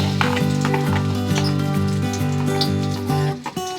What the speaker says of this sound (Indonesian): Setelah minyak panas, masukkan bawang merah,